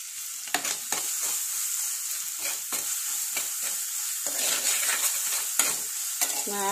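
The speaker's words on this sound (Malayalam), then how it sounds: "ഇതിനകത്തേക്ക് കുറച്ച് വെളുത്തുള്ളി, ഇഞ്ചി" Garlic and ginger sizzle steadily in a hot pan while being stirred, with repeated spatula scrapes and clinks against the metal throughout, no voices.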